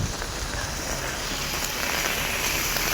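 Rain pours steadily onto pavement in Chennai traffic, a dense, even hiss of drops with no voices.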